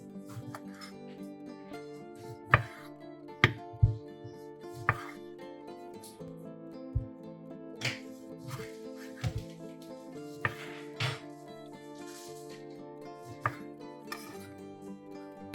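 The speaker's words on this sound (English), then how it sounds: "Put the chopped tomatoes in a large bowl." A knife chops tomatoes on a board in sharp, irregular taps, fairly close and quiet, with a low steady hum beneath and no talking.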